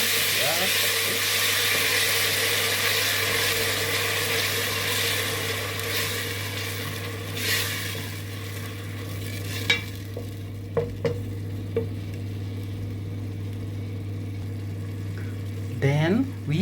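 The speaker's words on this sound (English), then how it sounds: "Once our onions have turned into golden brown color, we are going to add our tomatoes. We are going to stir just like this." Onions and tomatoes fry and sizzle in a pan while a spoon stirs them, with occasional scraping clicks and a steady low hum underneath; no one speaks.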